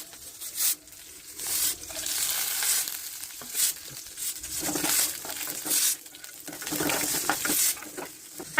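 Mustard seeds, fenugreek and curry leaves are tempered in hot ghee for a mango pulissery, with a loud sizzle and crackle that swells and fades in bursts between stirring scrapes.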